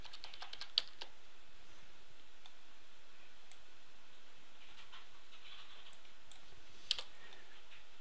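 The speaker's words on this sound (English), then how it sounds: "you can search within your layer list by typing in the search bar" Typing on a computer keyboard makes sparse, faint clicks and taps at irregular intervals against quiet room tone, with a couple of slightly sharper keystrokes standing out and no voice.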